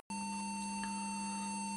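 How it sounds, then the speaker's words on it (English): A steady sine tone from an audio generator, fed into the aux input of a Mitsubishi receiver under repair, plays as a continuous, unchanging hum with harmonics for about two seconds. "feed in a sine wave through the aux input"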